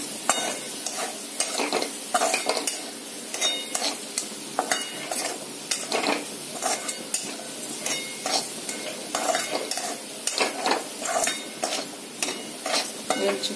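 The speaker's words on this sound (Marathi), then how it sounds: "थोडंसं गरम झाल्यानंतर ही साखर खोबऱ्यामध्ये विरघळेल, म्हणून आपण थोडंसं याला गरम करून घेणार आहोत।" Sugar and grated coconut for modak filling are stirred in a pan as they heat, giving soft sizzling with repeated scraping and stirring strokes in an uneven rhythm, fairly quiet and close.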